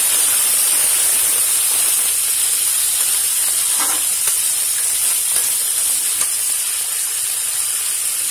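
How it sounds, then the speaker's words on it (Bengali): Potatoes fry steadily in a pan of hot oil as the first step of a koi fish and potato curry, giving a constant broadband sizzle and hiss that holds at an even level throughout with no voices. "আলুটা কিছুক্ষণ ভেজে নিচ্ছি।"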